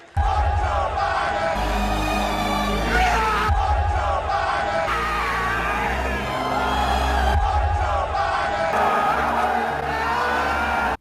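Huge NASCAR crowd at a race chanting in unison, a loud rhythmic rumble of many voices repeating in waves and filling the whole stretch with no single speaker.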